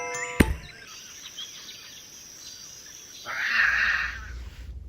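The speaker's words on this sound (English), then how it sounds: "the lion's loudest roar of all the big cats, it can be heard as far as 3 miles away." A lion roars once, loud and near, in a burst that swells and fades over about a second and a half, following a short sharp knock and a stretch of faint ambient background.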